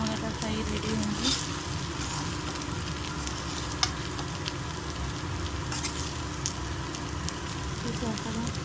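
Pieces of taro root (chamagadda) deep-frying in hot oil, a steady dense crackle and sizzle running throughout at close range with a few sharper pops.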